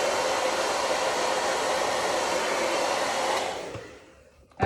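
A hair dryer blowing on fresh paint on a metal wreath, a steady close whooshing roar that cuts off near the end and winds down, followed by a brief handling knock.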